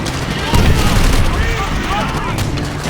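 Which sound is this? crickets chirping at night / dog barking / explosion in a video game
explosion in a video game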